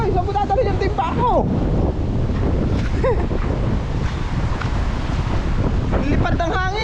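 Strong wind buffets the microphone with constant roaring gusts, while waves and water wash in the background and faint voices come through.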